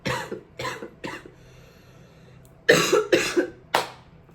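Two clusters of coughing: three sharp coughs, a short pause, then three more harsh coughs close to the listener, with no speech.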